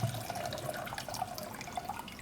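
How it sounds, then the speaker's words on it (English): Water pours out of a sprouting jar in a steady, close trickle with light splashing and dripping, no voices. "just pour the water out a little slower"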